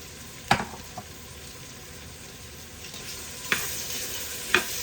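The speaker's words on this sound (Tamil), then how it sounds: "இப்போ கொஞ்சம் தக்காளி போட்டு போடுறேன்" Tomato hits hot oil in a pan while cooking bottle gourd rice, giving a steady close sizzle with a few sharp clinks of a stirring spoon, no talk.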